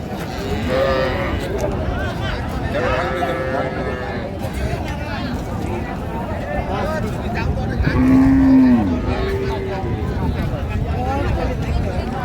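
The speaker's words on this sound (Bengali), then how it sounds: "এখানে একটি গাভী বাছুর দেখছিলাম আমরা এখানে" Dairy cows and calves moo at a busy rural cattle market, several low calls rising over constant crowd chatter and bargaining voices, with one loud nearby moo standing out midway.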